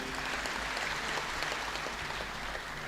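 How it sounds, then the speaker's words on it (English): Audience applause at a health sector event honoring Shapoorji Pallonji, a steady, dense wash of clapping hands that stays loud and even for a few seconds with no voices over it. "Please give him one more round of applause"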